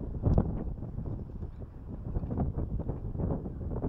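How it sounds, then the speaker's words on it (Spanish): Strong coastal wind at Madariaga during shore fishing for silversides, buffeting the microphone in a steady, loud, low rumble that swells and eases with the gusts. "Mucho viento, tenemos que salir."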